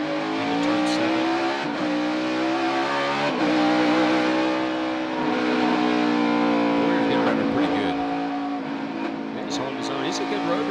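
NASCAR Cup Series race cars in practice at Sonoma Raceway roar continuously, engines revving and shifting as they brake and accelerate, with a commentator talking over the loud engine noise throughout.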